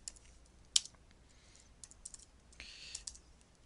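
Light clicks of computer keyboard typing while code comments are entered, scattered soft keystrokes with a short burst of several taps near the end, quiet and close.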